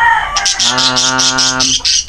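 Bird calling at a pet market in Angeles City: a clear, close, repeated call with a rhythmic pulsing series of notes, loud and alone with no talk.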